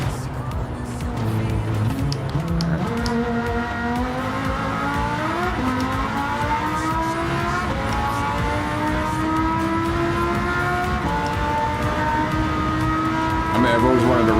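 A race car engine in the Gran Turismo 7 video game climbs repeatedly through the gears, loud and close, with rising pitch sweeps broken by brief shift dips, running continuously under occasional talk.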